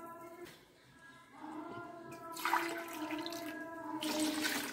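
Water saved from cooking mutton is poured from a tumbler into rice for mutton biryani. It makes a splashing, gurgling pour in two bursts, close and moderately loud in a quiet kitchen.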